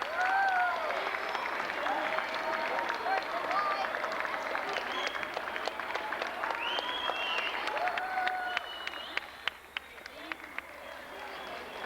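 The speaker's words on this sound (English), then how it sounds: "let's give Mr. Dixon one more big round of applause" A school assembly crowd of children and adults gives Mr. Dixon a long, loud round of applause, dense clapping filling the hall with scattered whistles and cheering voices, easing slightly toward the end.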